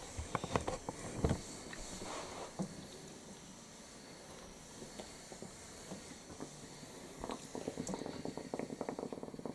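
A 1991 Philips Comfort 350 HD1613 steam iron hisses and gurgles as water boils inside, with occasional sputters and clicks over a steady low rumble.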